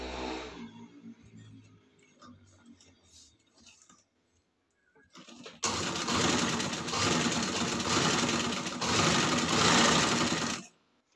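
A sewing machine runs loud and steady for about five seconds, stitching lace onto fabric, after quieter handling and fabric rustling at the start.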